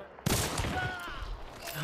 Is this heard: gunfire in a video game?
yes